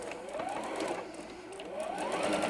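A sewing machine stitches a quarter-inch seam through the fabric pieces of a Pies & Points quilt block, its motor whirring steadily and continuously, rising and falling slightly in pitch, with no voices.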